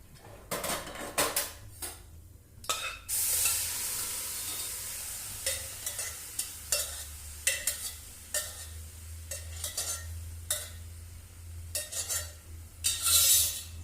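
Boiled bottle gourd with spices is stirred in a pan, repeated scraping strokes and clinks of a spoon on metal over a steady hiss of frying, close and fairly busy throughout.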